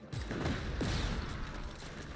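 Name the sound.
explosions in video game Just Cause 3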